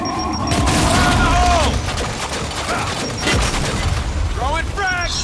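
Dense gunfire and heavy impacts fill a Gears of War 5 co-op firefight, a loud, sustained barrage with booming hits. Shouted in-game voices rise over it in places.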